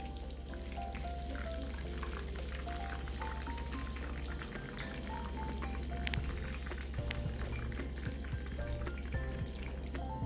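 Pakoras deep-frying in hot oil give a steady, dense sizzle with fine crackles and pops, moderately quiet and continuous, with no voices over it.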